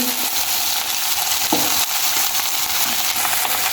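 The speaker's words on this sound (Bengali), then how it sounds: "এখন সবজির মধ্যে দিয়ে দেবো ভাতগুলো" Cooked rice tipped into vegetables frying in a pan, giving a steady loud sizzle with a few brief scraping and clinking touches from the spoon, close by and without voices.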